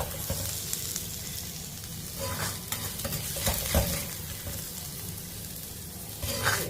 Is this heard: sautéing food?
yes